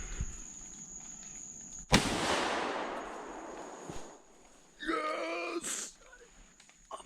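A single sharp gunshot rings out outdoors during a squirrel hunt, followed by a fading noisy tail, with a brief voice exclamation a few seconds later over quiet woodland background.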